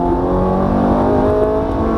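A Ferrari F430 F1 runs at full throttle on a race track, a loud, steady high-revving engine howl heard from close by for a couple of seconds with no talk.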